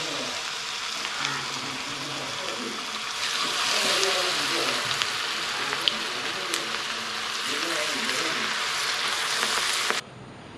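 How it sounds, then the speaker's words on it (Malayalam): Balls of green mussel mix, Malabar style, fry in boiling coconut oil with a steady, dense close-up sizzle that swells slightly midway and cuts off abruptly near the end. "ഈ മിക്സില്ലേ ഇത് കുറച്ച് കുറച്ച് ഒരു ഉരുളായിട്ട് എടുത്തിട്ട് തിളച്ച വെളിച്ചെണ്ണയിൽ പൊരിച്ചെടുക്കാം"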